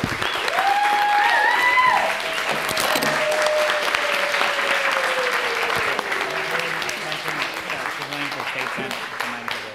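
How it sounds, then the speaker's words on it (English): Sustained applause from a lecture audience at UCLA, steady and dense throughout, with a few whistles and cheers rising above the clapping. "Let's give everyone another round of applause and to Fran Pavley."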